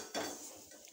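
Grated coconut being dry-roasted and stirred in a pan while making a mint, curry leaf and coriander chutney, with one sharp metal spoon scrape against the pan followed by a soft fading rustle.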